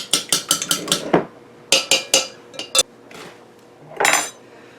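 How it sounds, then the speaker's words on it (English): A fork beats an egg in a measuring cup with quick bursts of bright clinking taps, several rapid strikes, a short pause, then more bursts, close and loud. "First I'm going to crack an egg in there and just beat it up a little bit"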